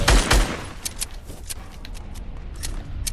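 Rapid gunfire in a competitive multiplayer shooter scrim, a burst of loud shots up front followed by scattered distant bursts and pops throughout.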